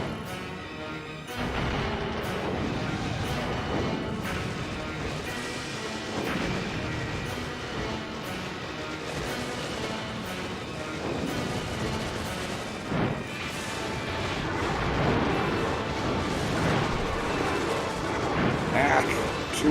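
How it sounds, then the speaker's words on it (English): Cannon fire from the PS2 game Drakengard, repeated booming blasts layered over continuous loud battle noise and music, with a voice talking over it. "Too many cannons."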